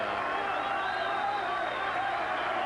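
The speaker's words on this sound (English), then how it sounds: "Crowd likes it. They're on their feet." A boxing arena crowd stands and cheers in a steady, dense roar with no break, mid-distance and filling the room, with a faint commentator voice mixed in.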